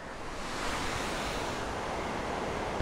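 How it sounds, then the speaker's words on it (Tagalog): A roadside waterfall along the Bessang Pass road in Ilocos Sur roars with rushing water, a loud, steady, unbroken wash that fills the whole moment with no voices. "Lalo na yung tunog ng tubig."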